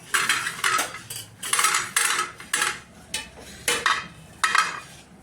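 Spoon clinking and scraping against a bowl while prawns are mixed with chili powder and salt, in a series of irregular metallic taps and stirs.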